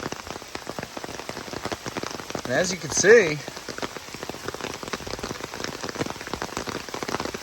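Steady rain pours onto a freshly rolled asphalt millings driveway on a hillside, a dense close hiss of drops and running water throughout, with a person briefly speaking over it.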